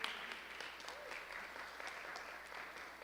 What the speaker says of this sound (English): a round of applause for these workers